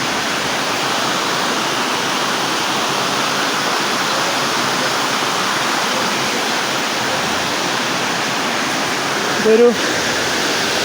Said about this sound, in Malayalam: വെള്ളം ചാട്ടമാണ് കാണുന്നത്